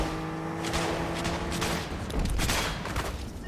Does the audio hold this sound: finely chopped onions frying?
no